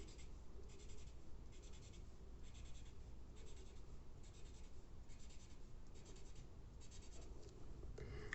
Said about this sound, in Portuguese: Então, eu vou colorir até o 17.